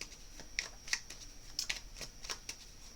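Oracle fairy cards being shuffled by hand in a quiet room, giving a string of soft, crisp riffles and flicks at an irregular pace, close and faint with no one talking.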